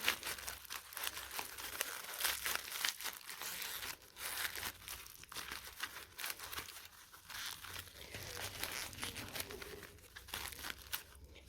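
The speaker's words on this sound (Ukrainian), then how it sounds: "І завертаємо в харчову звичайну фольгу. і формуємо грушу." Crumpled paper is wrapped in ordinary kitchen foil and pressed into a pear shape, giving steady close crinkling and crunching throughout at a fairly quiet level.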